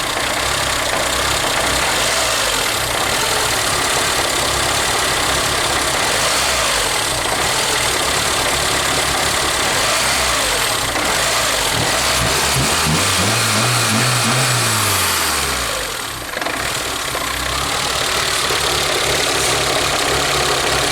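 A ZAZ Sens car engine idles steadily after a sensor replacement, a continuous loud mechanical drone with a brief low swell near the end and no talk.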